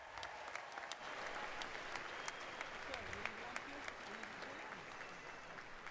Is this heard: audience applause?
yes